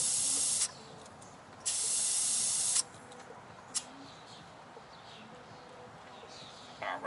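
Air hisses from an OEM compressor topping up a car tyre during a roadside flat repair, in two loud bursts of spraying air followed by quieter hiss and small clicks, without talking.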